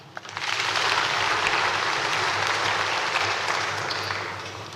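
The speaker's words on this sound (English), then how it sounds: "and we can give Him a clap." An audience at an inter-faith thanksgiving service bursts into sustained applause, rising quickly after a sharp first clap and staying loud and dense for several seconds before tapering toward the end.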